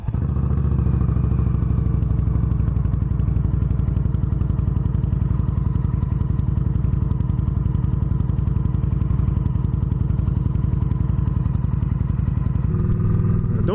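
An Indian Scout motorcycle fitted with a windshield rumbles steadily throughout on a ride, its close, loud engine drone constant with a brief shift near the end.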